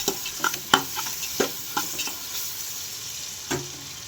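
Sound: sautéing ginger garlic paste in a pan

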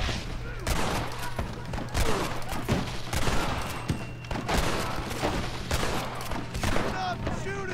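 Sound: gunfire in Red Dead Redemption video game

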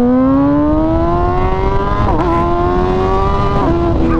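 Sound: MV Agusta Brutale 1000 RR motorcycle accelerating at half throttle

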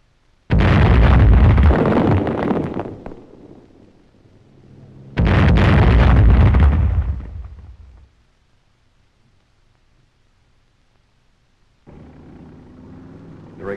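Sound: explosion of roadblock with German mines

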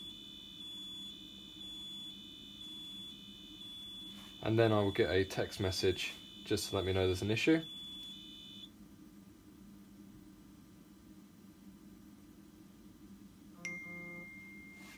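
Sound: Picote Sentinel alarm beeping after water float sensor is triggered

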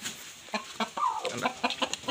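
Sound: roosters clucking

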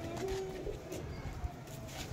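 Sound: pigeons cooing

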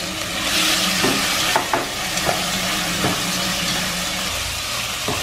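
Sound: stir-frying marinated pork belly in a pot

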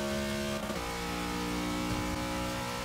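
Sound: Buick Regal car accelerating in Forza 6 video game

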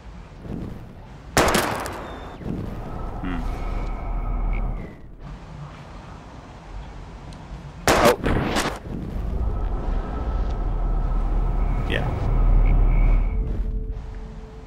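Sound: gunshots shooting bottles in Life Is Strange video game

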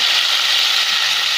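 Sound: chopped green chillies and tomatoes added, sizzling in pan

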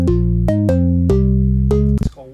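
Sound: Rhodes electric piano sample without EQ and OTT

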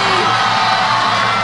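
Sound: audience applause and cheering for a singer

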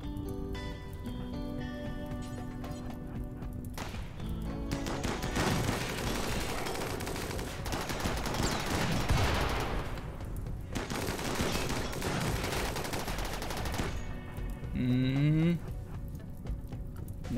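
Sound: gunfire in a fight in the video game Rimworld

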